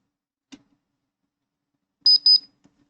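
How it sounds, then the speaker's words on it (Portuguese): A Mikrotik RB router gives two short, sharp high beeps in quick succession after finishing startup, preceded by a faint click in an otherwise quiet room. "quando ele finaliza a inicialização, ele dá 2 bips"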